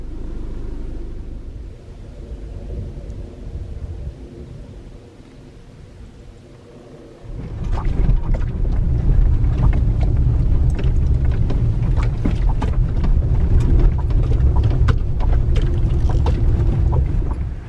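A Toyota RAV4 crawls slowly along a rough, rocky mountain road at high elevation, a steady low rumble that grows louder midway, with rattles and bumps scattered through it.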